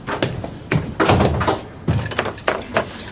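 A door is shut with several heavy thuds and bangs spaced unevenly, loud and close, with no talk.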